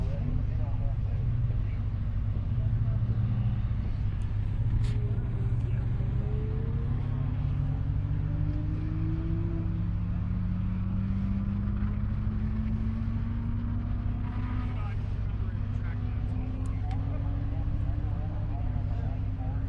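Race cars lapping a road course at Carolina Motorsports Park, a Corvette, an S2000 and a Supra among them, make a steady loud engine drone with rising and falling pitch as they pass, and a commentator talks over it.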